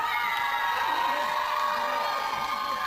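A wrestling arena crowd at a NOAH tag match cheers in a dense, sustained roar with shouts and whoops, loud and continuous throughout, with commentary voices mixed in underneath.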